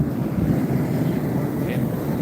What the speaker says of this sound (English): You go up on the top of this mountain, it's real windy.